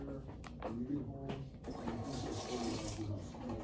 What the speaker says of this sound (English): Now that our hands are washed